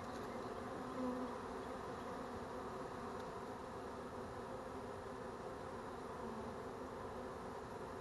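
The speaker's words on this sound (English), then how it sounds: "There's only maybe a handful of bees left on the tree." A honeybee swarm hums steadily around a tree during a swarm capture, a dense, continuous buzz of many wings held at an even level from start to finish, with no voices over it.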